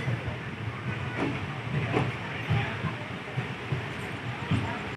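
Coimbatore to Chennai express train running at night, heard from inside a sleeper-class coach: a steady close rumble with soft hiss and faint clatter, and a person talking over it.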